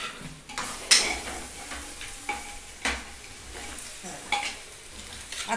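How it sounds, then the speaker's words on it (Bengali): Chopped onion and ginger sizzle in a pan while a utensil stirs and scrapes them, with bursts of scraping and clinks over a low, steady frying hiss. "পেঁয়াজ আর কিছু কিছু আদা কুচি দিতেই হয়, এটা একটু ভাজা ভাজা হোক"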